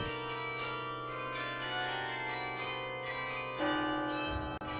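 Carillon bells of Tourcoing ring in a rich, sustained wash of overlapping tones, heard close up from inside the bell tower, with new strikes layering over the lingering hum.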